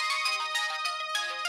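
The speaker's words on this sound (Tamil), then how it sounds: "எனக்கு இது ஃபோன் கால் வருது." A mobile phone rings with an incoming call, a bright repeating electronic ringtone melody played alone and fairly loud for its full length, with no talking.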